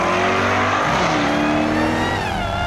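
A Project 8 sports car with 600 horsepower accelerates hard nearby, its engine note rising through the revs as it pulls away, loud and alone.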